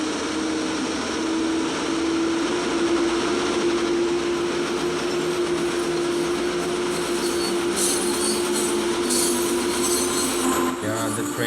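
Freight train rolling steadily in Train Sim World while brakes are applied, a continuous loud rumble with a sustained tonal whine throughout and brief clatter near the end.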